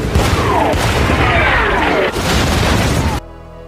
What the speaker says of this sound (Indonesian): mereka diserang artileri Jerman yang menyebabkan Emma tewas